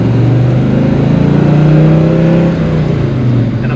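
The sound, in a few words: 1967 Buick Grand Sport engine revving while driving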